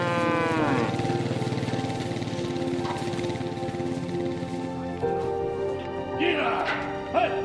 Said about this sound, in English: the cows make their way onto the back of